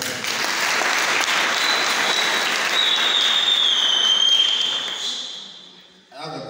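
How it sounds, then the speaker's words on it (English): Audience applause at an academic excellence night talk show, a dense sustained crowd clapping with a bright whistle-like tone riding over it, fading out near the end before a brief new burst. "Let's clap for ourselves."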